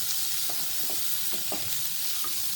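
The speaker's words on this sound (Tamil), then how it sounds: "அந்த கேரட் பீட்ரூட் ஓரளவு நல்ல அந்த நெய்யில் அதில் வந்து நல்ல க்ரீஸான அளவுக்கு வந்தால் போதும்." Carrots and beetroot fry in ghee, with a steady close sizzle and occasional soft stirring scrapes in the pan, no talk.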